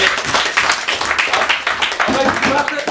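A group claps together in steady, dense applause, fairly close and loud, while voices talk over it.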